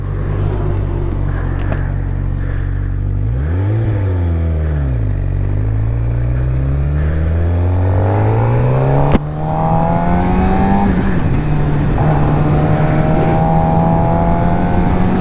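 A Suzuki GSX-R 600 sportbike engine drones steadily while riding, its pitch rising and falling through gear changes, with a brief sharp knock partway through and constant wind noise underneath.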